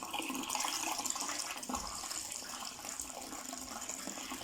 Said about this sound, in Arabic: هنشغل بقى الكاتل تاني وهوريكم بقى تصريف الميه